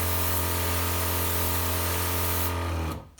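A Petra HD5000 electric pressure sprayer washes a car panel in winter, its motor humming loudly and steadily close by with a hissing spray before cutting off abruptly at the end.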